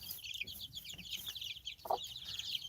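A group of chickens settling down for the night clucks softly and continuously, with overlapping high chirping murmurs and one brief louder squawk, fairly quiet and close, with no talk.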